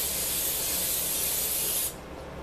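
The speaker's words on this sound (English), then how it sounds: "you're going to need some cooking spray, some non-stick spray, so your fries won't stick to the pan" Cooking spray hisses steadily from a can onto a pan being prepped for fries, a continuous close spray lasting about two seconds before cutting off, leaving quiet room tone.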